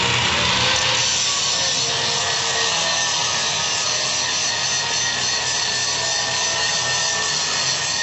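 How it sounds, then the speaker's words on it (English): Continuous harsh grinding noise, loud and unbroken throughout, a power tool grinding a metal Ford hot rod car frame with a gritty, rough texture. "I'm going to be grinding a little bit more of the frame"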